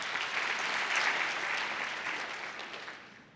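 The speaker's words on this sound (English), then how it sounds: "Let me see you clap your hands." Audience applause at a university diversity forum talk: a steady, dense wash of many hands clapping that gradually thins and fades toward the end.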